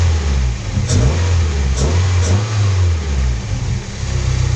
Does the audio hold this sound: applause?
no